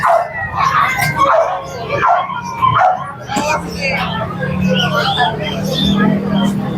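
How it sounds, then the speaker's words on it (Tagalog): Dogs at a pet market in Grotto, Bulacan, among them English Bulldogs and a Belgian breed, give scattered yips and short barks amid busy crowd noise while people chat nearby. "Wow, ang daming dogs nila"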